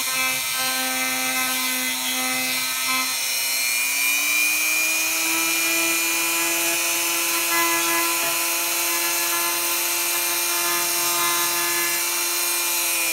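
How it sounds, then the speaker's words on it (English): A Dremel rotary tool cleans model railway track with a steady high-pitched whine. Partway through, the pitch slides upward as the tool speeds up, then holds at the faster, brighter tone, close and continuous. "as I increase the speed, I get more done, because the Dremel is going faster."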